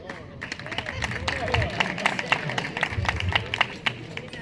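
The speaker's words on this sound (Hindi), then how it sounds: "तालियां अगर जादू के हिसाब से कम हो तो ज़्यादा बजा सकते हैं" An audience of police personnel at a New Year celebration claps, a dense rattle of hands rising and falling under a man's ongoing speech.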